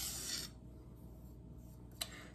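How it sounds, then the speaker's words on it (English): Light deburring strokes of a Victorinox knife edge across a vitrified diamond sharpening stone, a soft steady rasp followed by a brief scrape, close and quiet with no talk. "Deburring passes."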